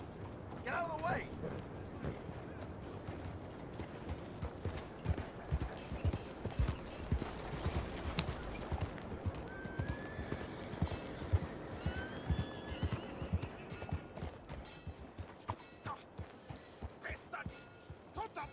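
Horse hooves clip-clop in Red Dead Redemption 2 with occasional neighs and whinnies, steady trotting under game ambience, background effects and intermittent talking.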